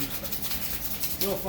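Steady, fine abrasive rubbing, a soft continuous scratchy hiss of light sanding on the metal frame of a 1978 Suzuki PE250 dirt bike, close by and moderately loud.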